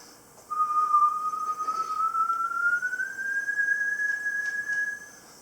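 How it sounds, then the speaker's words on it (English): A single person whistles one long, clear, steady note that slowly glides upward in pitch into a pitch-responsive LED wearable, close and fairly loud, lasting several seconds alone before stopping abruptly. "I could also try to whistle louder"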